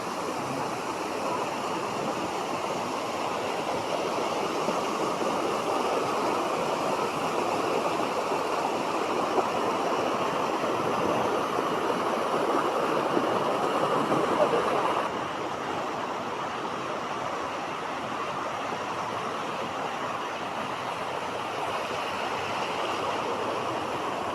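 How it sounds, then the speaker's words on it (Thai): Tham Phra waterfall's first tier in Thailand, a loud, steady broadband rush of falling and flowing water that continues unbroken and fills the whole scene. "น้ำตกถ้ำพระชั้นที่หนึ่ง"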